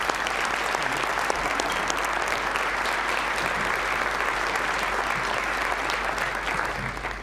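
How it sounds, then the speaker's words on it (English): A large audience gives sustained, dense applause for volunteers at a Boys & Girls Clubs special presentation, steady clapping filling the room for several seconds and tapering slightly at the end. "Can we give each one of these a round of applause right now?"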